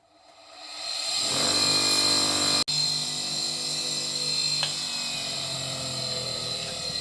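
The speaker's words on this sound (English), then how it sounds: "Just going to hit it with a Scotch-Brite pad and then have a look at the weld" A Scotch-Brite pad works over a copper corner weld on a part for a traction engine's copper boiler. A steady whirring motor rises in after a second and runs continuously, with one momentary dropout partway through.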